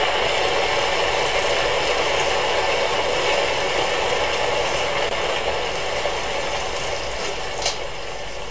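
A rain shower falls in the video game Stranded Deep as a steady, even hiss that stays loud and unbroken throughout, easing slightly near the end.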